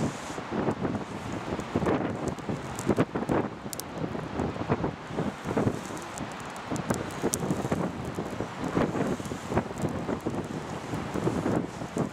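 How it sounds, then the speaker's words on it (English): Gentle breaths blown onto a kindling campfire outdoors, a continuous rushing, wind-like roar with crackly texture filling the whole stretch, close to the microphone. "Some gentle blowing just to help the wind."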